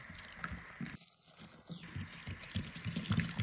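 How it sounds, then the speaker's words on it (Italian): Water poured gradually into rice flour in a large bowl for a gluten-free batter, soft trickling and dripping with small splashes, close and fairly faint, alone without talk. "Aggiungiamo l'acqua gradualmente."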